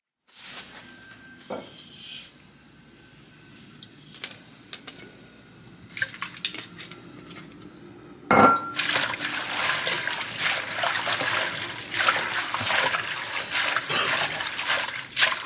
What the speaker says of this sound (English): I do this around about 3 times just to make sure that everything is clean.